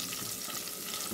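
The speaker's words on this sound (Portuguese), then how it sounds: "aqui já está fritando o alho." Garlic fries in a pan with a steady, close crackling sizzle that does not let up.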